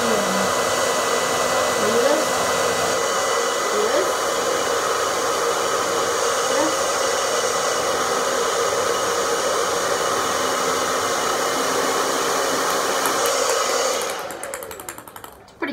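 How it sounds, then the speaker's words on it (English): A hair dryer blows steadily and loudly to keep a ping pong ball floating in its airstream, a constant whooshing roar that holds for about fourteen seconds and then cuts off abruptly. "Ping pong ball, hair dryer."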